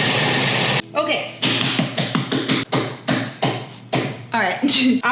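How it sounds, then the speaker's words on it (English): Someone gives a coffee grinder a series of quick, sharp taps to free beans held up inside. The knocks come in an uneven run of close, crisp hits with short gaps between them. "I always give it a little tap because some beans can be held up in there"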